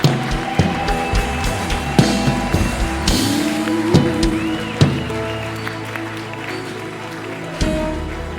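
A church congregation at a fasting and prayer service claps together for God, a dense, sustained wash of many hands with sharper accented hits scattered throughout.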